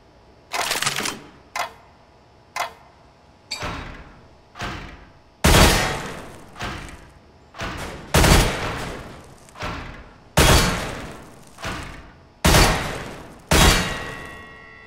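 Shots fired at wooden terrorist targets on a Counter-Strike: Global Offensive weapons training course: about a dozen sharp, loud single gunshots spaced irregularly, each with a short decaying tail in an otherwise quiet range.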